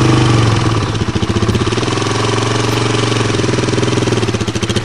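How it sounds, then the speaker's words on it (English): A quad bike engine chugs loudly and close as the throttle is opened and the clutch slowly released on a farm, a pulsing rhythmic idle settling into a steady run. "So, now you give it a little bit of gas and slowly release the clutch."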